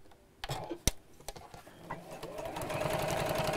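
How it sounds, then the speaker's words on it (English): Sewing machine stitching along the ends and top and bottom edges of fabric for a half-yard project, the motor whirring in a steady buzz that builds and runs continuously toward the end after a few brief knocks. "so sew on the ends and then sew down the top and the bottom as well"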